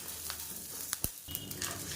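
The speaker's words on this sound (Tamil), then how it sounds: "இது எல்லாத்தையுமே நல்லா வதக்கி எடுத்துக்கலாம்." Chana dal, curry leaves and tamarind fry in a pan with a steady close sizzle, broken by a few sharp clicks and scrapes as the mix is stirred.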